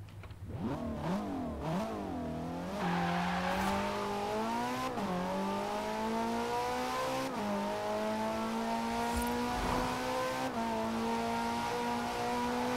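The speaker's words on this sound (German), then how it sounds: "Und sogar Ferrari-Motor. Klingt so ein bisschen nach Ferrari 430 Scuderia." Ferrari 430 Scuderia-style engine in the Forza Horizon racing game, revving loudly and steadily climbing through gears with brief shift dips, close and continuous with no talk over it.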